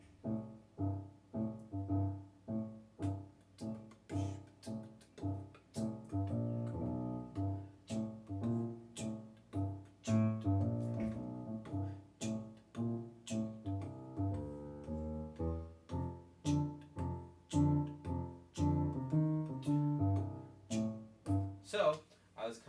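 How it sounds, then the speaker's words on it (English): Blues piano groove driven by a steady left-hand pattern, with repeated rhythmic chords and bass notes pulsing evenly throughout, played close and clear with no voices. "The very basic beginning stages of the blues is kind of coming up with kind of a groove in our left hand."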